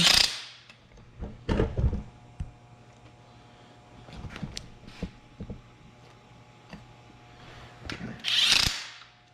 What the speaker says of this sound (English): just with the electric impact gun here